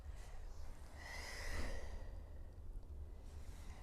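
An exhalation during a Pilates twist exercise, a soft breathy rush of air swelling in the middle of the clip and then fading, faint and close, with no talking.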